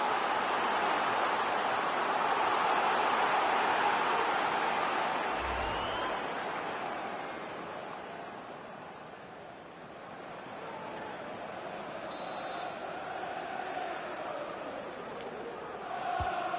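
A stadium crowd at a simulated Premier League football match between Hull City and Manchester United in FIFA 25 keeps up a continuous broad roar, swelling early, easing in the middle, then building again.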